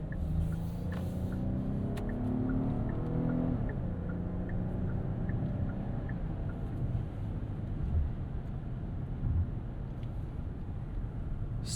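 A 2026 Hyundai Palisade V6 SUV with an 8-speed automatic accelerates from a stop, its engine note rising as a muffled cabin drone with road and wind rumble, heard steadily from inside with no talking.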